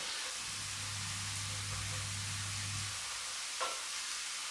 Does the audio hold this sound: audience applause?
no